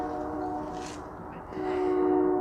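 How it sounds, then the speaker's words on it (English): A train passes in the distance, a steady low rumble with a sustained horn-like tone rising in the second half, heard from a truck stop setting with no talking. "Every time I try talking, there's a train."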